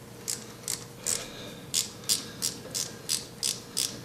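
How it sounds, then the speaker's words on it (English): A ratchet cranks in repeated quick bursts, about nine clicking pulls in a steady rhythm, close and clear, while the valve tappet cover bolts come off a Yamaha Grizzly 450 ATV engine. "now I'm going to remove the valve tappet cover"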